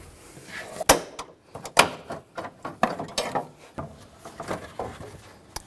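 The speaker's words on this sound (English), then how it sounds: "You can also use a trim tool. Just try to pry those out." Plastic trim clips are pried loose with a trim tool from interior panels of a 2007-2013 Chevrolet Silverado 1500, giving a series of sharp close pops and clicks spaced irregularly, with softer scraping in between.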